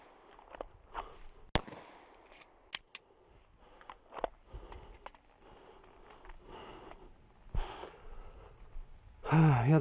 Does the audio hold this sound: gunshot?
yes